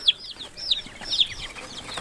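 Barnyard-mix chicks give a run of high, short peeps, about half a dozen in two seconds, close by and fairly loud over a quiet background.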